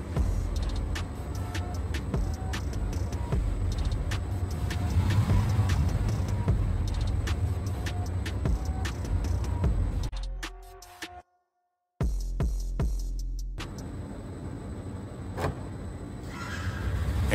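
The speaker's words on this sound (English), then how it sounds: "I have successfully unlocked the car with the clone signal" A car's door locks unlock after a replayed clone key-fob signal sent from an Evil Crow V2 radio device: sharp mechanical clicks over a steady outdoor hum, interrupted by a brief dropout to silence before the hum returns.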